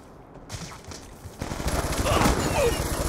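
Gunfire in Call of Duty Black Ops gameplay: after a quieter opening, loud rapid bursts of shots run continuously to the end, with a voice talking faintly underneath.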